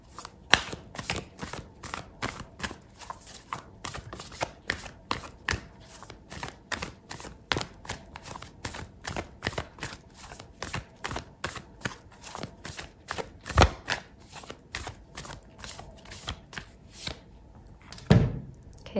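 Tarot and oracle cards are shuffled by hand in quick, rhythmic riffles and taps, a long close run of soft flicks with a couple of sharper knocks, with no voice over it.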